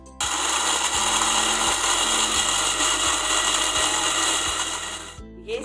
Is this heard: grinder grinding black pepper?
yes